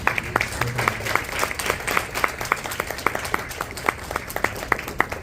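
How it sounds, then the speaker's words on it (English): A live audience at an information session on risk assessment in adult criminal justice agencies claps steadily at the close, a brisk, even patter of many hands heard clearly with little talking over it. "can we get a quick round of applause for that?"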